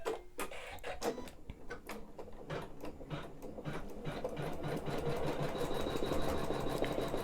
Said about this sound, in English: Now I'm going to do the digitized basting.